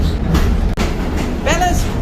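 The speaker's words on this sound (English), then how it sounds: "We're going to get off the train." A passenger train runs on rails through the Hungarian countryside, giving a steady loud rumble inside the carriage with a brief squeal near the end.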